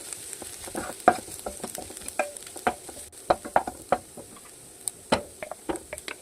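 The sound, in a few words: stirring chili powder and coriander powder into paneer masala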